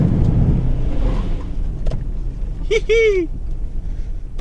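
2017 Toyota Hilux 2.4 D-4D rumbles loudly over sand, its engine and tyre noise steady and close, with a brief exclamation from a voice partway through.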